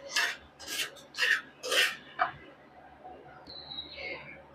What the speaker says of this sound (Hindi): मीडियम आंच में सूजी को हम ऐसे चलाते हुए सुनहरा, बहुत ज़्यादा नहीं हमें रोस्ट करना है